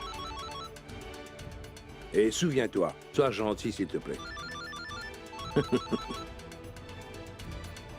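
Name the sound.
telephone ringing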